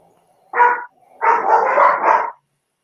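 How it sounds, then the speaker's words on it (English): Dogs barking close and loud: a single short bark, a brief pause, then a longer run of three or four rapid barks, with no voices over them. "you're turning up the chat to set the dogs off"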